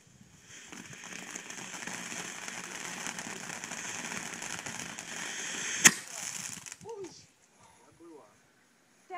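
Backyard fireworks keep crackling and popping steadily for several seconds, ending in one sharp loud bang, after which the bursts fade and a voice speaks briefly amid scattered quieter pops.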